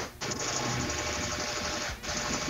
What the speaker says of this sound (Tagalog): Medyo maingay po yung electric fan mo, ma'am.